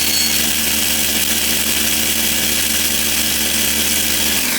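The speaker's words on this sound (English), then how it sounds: "I've had to buy a Kenwood mixer to make it, to mill it" A Kenwood mixer milling parrot food very fine gives a loud, constant, high-pitched motor whine with a grinding roar, close and unbroken until it winds down at the end.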